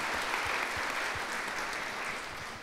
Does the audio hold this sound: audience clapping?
yes